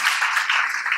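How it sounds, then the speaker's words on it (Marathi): Loud applause from a seated audience at a session talk, a brief burst of dense, close clapping filling the moment evenly. "टाळ्या, जोरदार टाळ्या."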